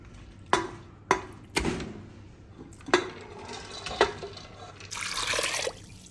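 Water pours into a pressure cooker holding lentils, with several sharp clinks of metal pots, a short splashing pour near the end, close by, with no talking.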